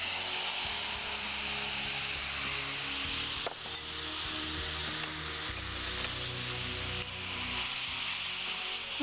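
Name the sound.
spice paste sizzling while frying in oil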